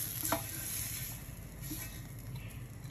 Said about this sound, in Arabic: هاخد الخليط بقى وهحطه على البيض